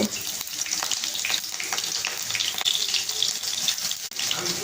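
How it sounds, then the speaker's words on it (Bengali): Green chilies, whole cumin, panch phoron and crushed garlic hit hot oil in a kadai, giving a busy, continuous sizzle with scattered crackles and pops that hold steady throughout, fairly close and without any talking. "তেল গরম হয়ে গেলে কাঁচা লঙ্কা, গোটা জিরা, সম্বুরা, একটু থেতো করা রসুন দিয়ে দেব"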